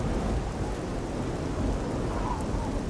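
Rain and rumbling thunder fill a video game scene with a dense, steady downpour and low, rolling rumble throughout, and no talk over it.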